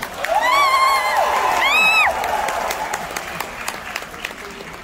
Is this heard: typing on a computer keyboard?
no